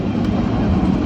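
Metro train in Rabat, Morocco, heard as a steady, loud low rumble of rolling wheels and running gear throughout, with no voices over it.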